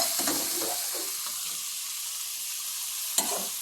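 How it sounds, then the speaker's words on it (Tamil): Egg fried rice with cabbage stirred in a hot pan, a steady bright sizzle with soft scraping strokes of the spatula, close and clear with no talking. "அதை வந்து இந்த கோஸோட போட்டு கிளறணும் பாருங்கள்"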